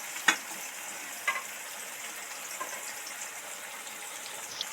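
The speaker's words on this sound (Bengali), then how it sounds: "পেঁয়াজ টমেটো আলু কি সুন্দর সব সফট সব ভাজা হয়ে গেছে" Onion, tomato and potato frying in oil in a pan, a soft steady sizzle with a few faint clicks of stirring near the start.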